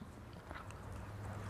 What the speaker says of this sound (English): Hate the chewing so much.